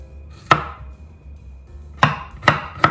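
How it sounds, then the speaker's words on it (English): A knife slicing a cucumber into rounds, four crisp chops on a cutting board, the first by itself and the last three coming quickly one after another in a quiet kitchen. "Slice into rounds."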